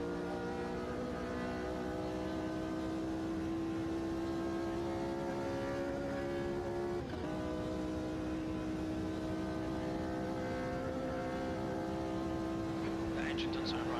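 A 1960s Formula 1 car engine drones in the AMS2 racing game, a steady loud mechanical hum held at a constant pitch throughout, with no speech over it.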